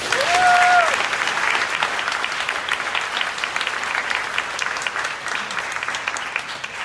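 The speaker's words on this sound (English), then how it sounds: "Give yourselves a round of applause." An audience at a Delaware voting rights legislative event applauds steadily throughout, a dense wash of clapping with a brief whistle near the start, slowly easing toward the end.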